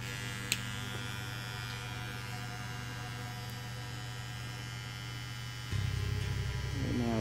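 A machine running with a steady electric hum and buzz throughout, loud and close, growing slightly louder and rougher near the end as its stroke opens up, no talking.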